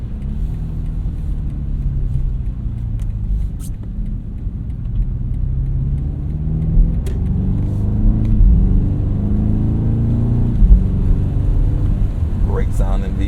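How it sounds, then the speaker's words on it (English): A 2025 BMW M5 Touring with a hybrid V8 drives along, its deep engine rumble steady and close throughout, swelling slightly around the middle as it pulls through a turn. "Great sounding V8, just the way I like it."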